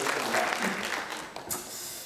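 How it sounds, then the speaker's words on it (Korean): A church congregation applauding steadily at an Easter service, a dense wash of clapping from many hands that fades slightly toward the end. "한 번 더 박수 쳐주세요."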